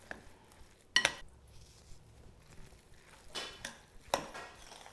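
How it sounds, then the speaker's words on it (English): Spoon working through Mauritian spring roll filling with minced shallot in a bowl, a few distinct scraping clinks and soft knocks scattered over a quiet background. "So you give it a really good stir"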